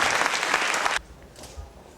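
Applause from the audience at a Tamil movie launch event, a full burst of clapping that cuts off abruptly halfway, leaving a quieter room with faint murmurs.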